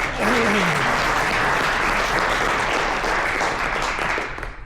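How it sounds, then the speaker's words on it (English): Audience applause at an AI HDL awards ceremony for the winning team Chip X, a steady, dense roar of clapping filling the room throughout, with a brief voice rising over it near the start. "One round of applause for Chip X."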